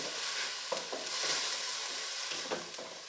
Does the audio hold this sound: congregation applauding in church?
no